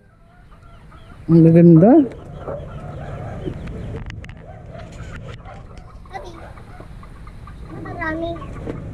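Rhode Island White rosecomb chickens cluck nearby, with one loud, sharp call standing out early and softer clucks scattered after it, while people talk over them.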